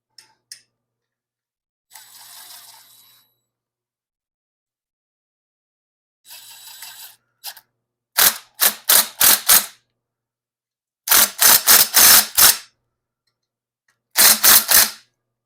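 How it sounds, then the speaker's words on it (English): Half-inch impact wrench firing in short, loud rattling bursts during a Ford 302 engine build, several quick hammering blasts in groups after some softer handling noises, no talk. "let me get my little impact, the 1/2 inch"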